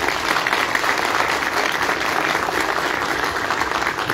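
Members at a union assembly meeting applaud loudly and continuously, a thick, even wash of many hands clapping close by with no pauses for the whole stretch.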